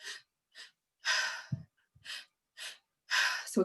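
Steady rhythmic breaths during a guided breathwork session, a series of loud airy inhales and exhales about half a second apart, spaced by brief pauses, close and clear with no talking.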